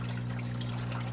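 Water rushing steadily through the slotted filter section of a Ruby 36 aquarium sump, a close, continuous trickling wash over a low, steady pump hum, with no voices.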